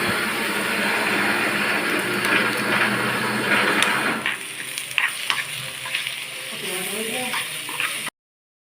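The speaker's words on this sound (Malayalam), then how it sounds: "എന്നിട്ട് ആ ഉള്ളി വാട്ടാൻ വെച്ച ഉള്ളിയിലേക്ക് ഇട്ട് കൊടുക്കുകയാണ് ചെയ്തത്" A paste of ginger, garlic and chili hits onions softening in a pan, giving a strong frying hiss for about four seconds before it settles into lighter stirring scrapes and clatter. There is no talking.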